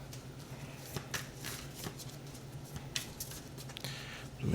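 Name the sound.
tarot cards shuffling and flying out of the deck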